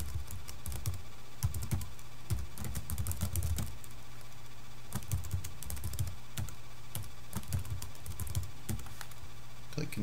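Computer keyboard typing while entering account email and password details, a steady run of close clicking keystrokes over a constant low background hum.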